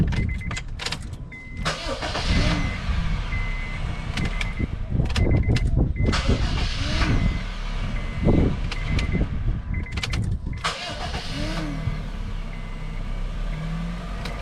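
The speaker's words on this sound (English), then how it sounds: "now I'm going to start up the vehicle" A 2011 Honda Fit with a newly replaced starter cranks and starts, with clicks and clunks at first, then the engine settles into a steady idle close by, over scattered handling noises.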